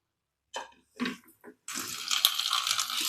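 A few clinks and handling sounds give way to tap water pouring steadily into a vessel in a home kitchen during sambar cooking, a close, even splashing stream with no talking.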